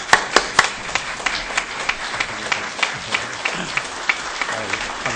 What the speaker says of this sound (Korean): 우리 다 같이 기립하셔서 뜨거운 박수로 환영해 주시기 바랍니다